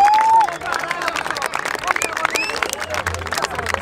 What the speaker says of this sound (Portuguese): Mais palmas, família, mais palmas